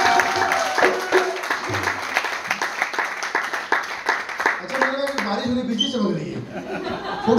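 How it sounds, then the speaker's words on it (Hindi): An audience at a live comedy night claps in a brisk, rhythmic burst of hands mixed with scattered laughter, fairly close and loud, with voices rising toward the end. "एक बार दुर्गापुर में ताली बजा दीजिए"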